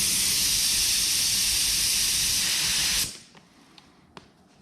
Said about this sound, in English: So let's go ahead and spray this door.